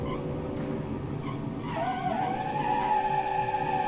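A car drifting with its tires skidding, a rising wavering squeal over a revving engine, loud and close, building in the second half.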